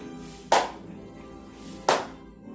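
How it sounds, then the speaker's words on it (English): Two sharp hand claps about a second and a half apart during a knee raise exercise, close and crisp over a quiet background with no talking. "knee raise and a clap"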